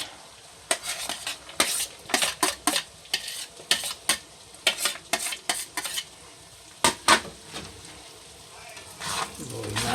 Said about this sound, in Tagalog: Haluin natin mabuti guys para mix mabuti.